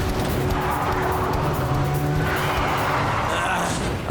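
Cartoon car driving fast in a Hindi animated action cartoon, a continuous loud engine drone with tire squeal and a rising whoosh near the end, filling the scene without pause.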